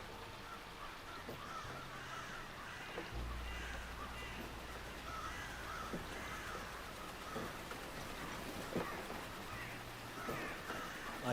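Crows caw intermittently near a watermill in dark woods in the video game Saint Kotar, harsh calls scattered over a steady patter of rain and low ambient drone, with no talking.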